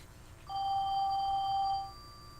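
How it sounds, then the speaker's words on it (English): A house telephone rings once with a steady electronic trill lasting about a second and a half, clear and fairly loud above a quiet room. "House phone."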